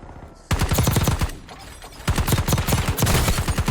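Rapid SMG fire in Warzone rattles off in loud, dense bursts, with a brief lull near the middle before the shooting resumes.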